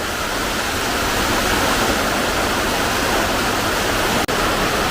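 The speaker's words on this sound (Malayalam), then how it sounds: "ശക്തമായിട്ടുള്ള മഴ തുടങ്ങി" Heavy rain with wind pours down in a dense, steady roar that stays constant throughout, with only a brief dip near the end.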